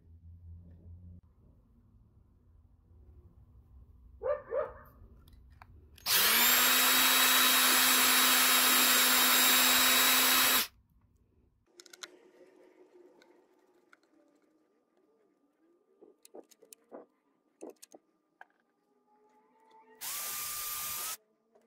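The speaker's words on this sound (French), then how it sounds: "on va percer les trous" Power drill boring holes in a large wooden box for sand casting, one long loud whining burst in the middle and a shorter burst near the end, separated by quiet handling sounds.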